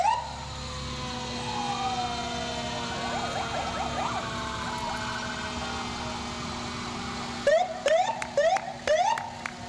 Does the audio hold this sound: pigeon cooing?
no